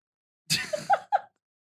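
A single quick sneeze with a sharp burst, followed by two short breathy catches, fairly faint and close, with no talk around it.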